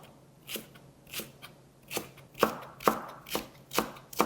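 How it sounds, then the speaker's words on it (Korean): A knife slices green onion diagonally on a cutting board in steady, evenly spaced crisp chops, about nine strokes, close and fairly quiet with no talk. "대파는 어슷 썰어서 준비를 하도록 하겠습니다"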